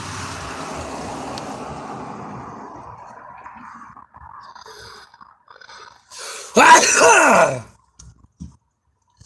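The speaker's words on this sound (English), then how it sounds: "I'm gonna sneeze." A single loud, sharp sneeze bursts out near the end after a stretch of quiet breathing and faint background rumble.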